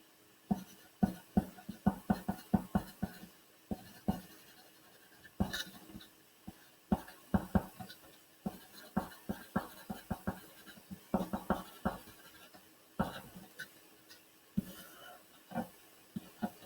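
Pen scratching steadily on paper as math notes are written by hand, close and quiet, in irregular strokes and short bursts with brief pauses and no talking.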